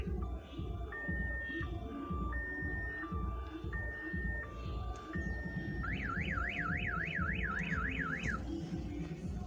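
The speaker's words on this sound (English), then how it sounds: "That's my car alarm." A car alarm blares close and loud, cycling through stepped two-tone wails before switching to a fast rising-and-falling warble, over a steady background hum from outdoor air conditioner units.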